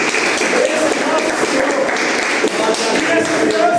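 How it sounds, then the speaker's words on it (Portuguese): Church congregation applauding together, a steady dense patter of clapping that fills the room for several seconds at fairly loud level, with voices faintly mixed in. "Você pode aplaudir o Senhor."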